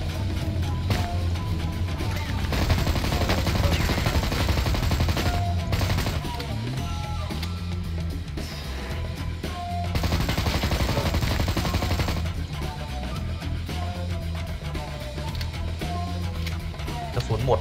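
Rapid gunfire in the Man from U.N.C.L.E. video game, dense and continuous shots layered over a busy game soundtrack, with a few louder bursts throughout.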